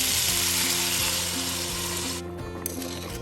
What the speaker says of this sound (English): Stir fry for about 5 minutes and then add in 8 cups of water.